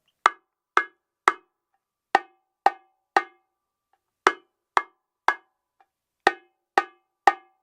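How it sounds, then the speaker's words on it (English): Bongo drum struck by hand, giving a high-pitched, short, dry tone; a dozen crisp, close, isolated hits come in loose groups of three with brief pauses between them, and no voices are heard. "So that's going to be a smaller drum sound, right? Higher pitch, shorter, higher, drier sound."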